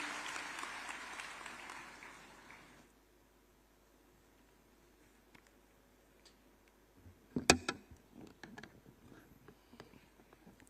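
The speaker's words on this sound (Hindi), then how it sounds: "जोरदार तालियों से माननीय का स्वागत करें" A crowd at a government appointment-letter ceremony in Lucknow applauds to welcome the Chief Minister, a dense burst of clapping that fades and cuts off after a few seconds, followed by near silence and a few sharp knocks.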